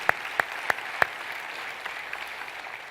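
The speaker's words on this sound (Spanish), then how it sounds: "démosle un aplauso al Rey de Reyes" Church congregation applause in a steady wash across the clip, with a few sharp, louder claps standing out near the start before the clapping carries on more evenly and softly to the end.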